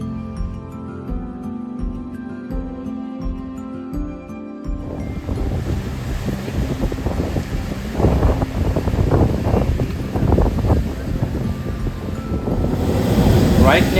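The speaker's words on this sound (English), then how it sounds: "The sea here is very wild and dramatic. Waves are crashing, quite windy" Wild, rough sea near the Al Mughsel cave in Salalah, Oman, with waves crashing and strong wind buffeting the microphone; a music-like tonal passage opens, then loud, continuous surf and gusting wind build toward the end.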